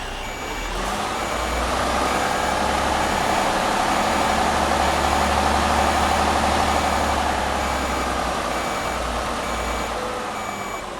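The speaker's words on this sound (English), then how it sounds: "Let's reverse this trailer." A Mercedes-Benz Actros truck reverses a trailer in Euro Truck Simulator 2, its engine rumbling low while reversing beeps repeat steadily, rising and then easing off over several seconds.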